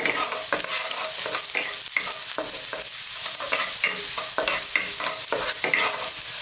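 Garlic sautéing in hot corn oil in a pan gives a steady, close sizzle, broken by frequent scraping strokes of a spatula against the pan.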